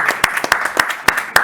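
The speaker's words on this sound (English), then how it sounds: "So, round of applause for it." Audience at a panel conversation event clapping in a brief burst, a handful of separate distinct claps rather than a full roar, close and moderately loud.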